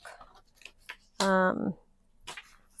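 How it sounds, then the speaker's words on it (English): Scissors slicing through a sheet of 65-pound black cardstock give one loud, crisp snip lasting about half a second, with quieter handling noises and some talk before and after. "I think I'm going to just cut a piece of black cardstock."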